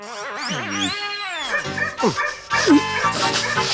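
A man imitates a dog's barking and whimpering in a Bollywood comedy film, his voice bending through yips and bow-wows, loud and close, with rising and falling pitch in several short bursts.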